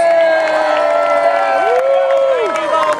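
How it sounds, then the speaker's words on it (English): A crowd at the Alice Springs Masters Games 2010 opening ceremony applauds for volunteers, with cheering and whoops mixed into loud, sustained clapping and voices rising and falling throughout. "So please give those volunteers a big round of applause."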